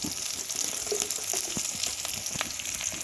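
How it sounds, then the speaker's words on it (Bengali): Onions and dried fish frying in a pan, a steady close sizzle with soft crackles and small stirring scrapes, no talking. "পেঁয়াজটা একটু ভালো করে একটু ভাজে নেব"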